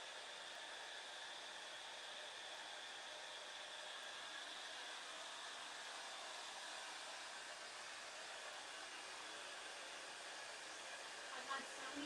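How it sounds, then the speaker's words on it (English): A small travel-size blow dryer fitted with a large diffuser, drying curly hair, runs as a steady, even airy whoosh for the whole stretch, close and constant, with no talking. "a little tiny travel size blow dryer, and like it produces some heat"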